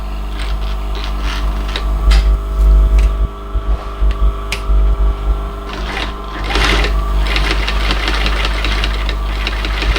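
A sewing machine stitches the flap of a leather office handbag, a loud, close mechanical hum with rapid knocking stitch bursts that stop and restart a few times.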